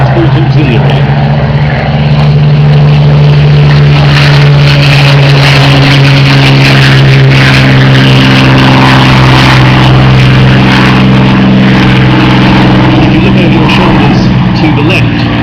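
Loud, steady propeller-engine drone of a Hawker Hurricane and a Spitfire taking off at an air display, a strong low hum throughout with broadband roar, running continuously for the whole stretch.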